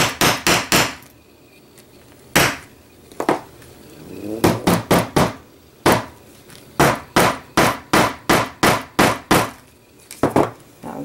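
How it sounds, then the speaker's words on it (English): Hammer blows on a passport holder, loud sharp impacts in quick clusters of three to six with short pauses between groups, close up and dry, with no voices over them. "I'm getting after this with the hammer."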